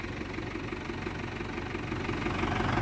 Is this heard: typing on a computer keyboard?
no